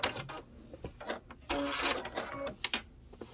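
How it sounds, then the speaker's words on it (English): A sewing machine stitches along the edge of a Trapunto pineapple pouch in short rapid bursts, with brief pauses and a quick backstitch, the mechanical whirring close and clear with no talk. "Stitch right on the edge. Backstitch just a little bit."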